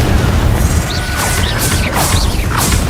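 A Confringo spell blast in Hogwarts Legacy, a loud crashing burst with whooshing, crackling magical effects and several sharp impacts.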